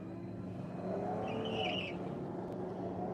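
A Hyundai Ioniq 5N and a BMW drag racing at a strip, a sustained car roar with a brief high tire squeal in the middle, heard from trackside at moderate distance.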